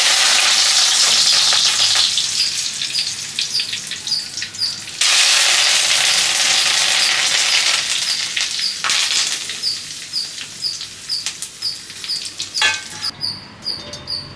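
Curry leaves hit hot oil for a homemade sabudana mixture, giving a loud, continuous crackling sizzle with stirring scrapes that ebbs and surges in bursts before settling into softer spitting.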